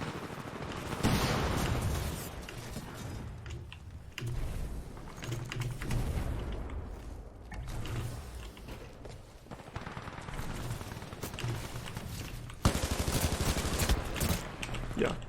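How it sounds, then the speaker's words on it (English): A submachine gun fires in a video game in rapid bursts of loud automatic shots, with brief gaps and other game effects mixed in throughout. "maybe I shouldn't use an SMG from this range"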